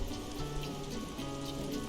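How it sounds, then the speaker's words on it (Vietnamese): Heavy rain falls in the co-op survival game Don't Starve Together: Shipwrecked, a soft, continuous patter of raindrops blended with quiet, sustained in-game music tones, with no talking. "Nhưng mà nó mưa to quá rồi"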